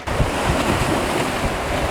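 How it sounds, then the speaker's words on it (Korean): Strong ocean waves surging along the southwest coast of Jeju, a steady loud roar of surf and wash with wind buffeting the microphone throughout, no voices. "그리고 생각보다 파도가 세요"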